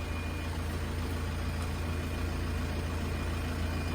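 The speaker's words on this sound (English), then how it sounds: "this engine will rock towards you when it starts up" A classic Mini engine that has been sitting for years runs with choke applied, giving a steady low idling rumble throughout with no talking.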